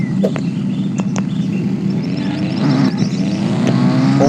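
A BMW i8 engine in a knockoff GTA-style video game hums steadily and loud, its pitch rising gradually as it accelerates, with a few faint clicks on top.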